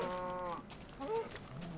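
A Minecraft cow gives two drawn-out moos, one after the other, close and clear over a soft game background, with no talking.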